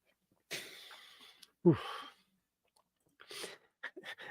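A single quiet sneeze, preceded by a breathy intake and followed by soft sniffles and small mouth sounds in an otherwise quiet room.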